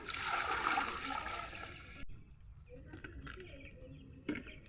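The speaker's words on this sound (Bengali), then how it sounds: "দেখো আমি কেমন করে জল দিই।" Water poured out for poultry on a farm: a steady, loud splashing gush that cuts off suddenly, leaving faint trickles and small sounds behind.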